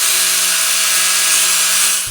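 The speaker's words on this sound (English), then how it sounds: "I went to the drill press to make myself a tool out of a piece of bolt" A drill press machines a piece of steel bolt into a small shop-made tool, giving a steady, loud metallic whine with a ringing tone throughout, no voices, easing off right at the end.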